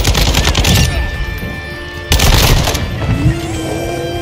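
Rapid automatic gunfire in the shooter game Modern Warfare 2 during team deathmatch, loud close bursts with sharp cracks and a hard restart midway, no talking.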